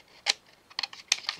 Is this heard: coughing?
no